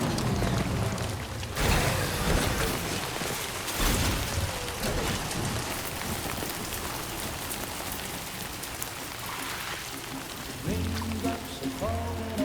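Steady rain pouring in the Death Stranding 2 game world, a dense continuous hiss of drops on surfaces, loud and close, with a tonal musical swell rising near the end.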